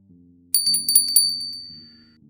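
A bright bicycle-style bell rings a few quick dings alone, used as a subscribe notification chime, with a soft electronic tone underneath fading out.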